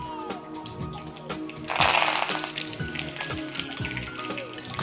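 Mustard seeds and curry leaves crackle and sizzle in hot oil in a kitchen pan, a busy spitting hiss that swells louder for a moment, with scattered pops throughout.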